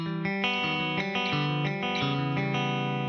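An electric guitar is strummed with an upstroke on the first chord and downstrokes after, a quick run of distorted, chorus-tinged strums in a steady rhythm with no talking.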